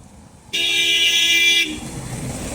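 A vehicle approaching from behind on a village road sounds its horn in one sustained, loud blast lasting about a second, followed by a low background rumble.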